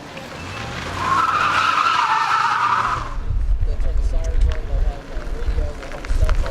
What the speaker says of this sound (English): He's got the best skid marks so far out there.